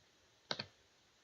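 A computer mouse button clicks twice in quick succession while confirming a setting in SewArt embroidery software; the clicks are close, crisp and faint, with no talking.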